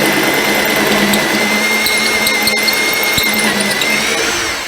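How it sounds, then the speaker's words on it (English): A power drill fitted with a hole saw grinds steadily through material for a cart build, a continuous close, loud whir with a faint steady hum and brief ratcheting catches, no talk. "let the drill or the hole saw nibble away at it"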